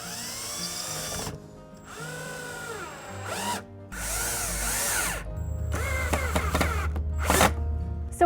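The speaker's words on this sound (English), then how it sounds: "I'm just going to screw those in, and I did pre-drill some pilot holes in this board" A power drill drives screws into pallet boards with pre-drilled pilot holes, giving several rising whines in short bursts separated by pauses, each ending as the screw seats. The drilling is close and loud, with no talking.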